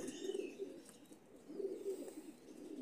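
Ringed, white-eyed pigeons cooing softly in repeated low, rolling phrases, two clear bouts with a brief pause between, close and quiet with no talk.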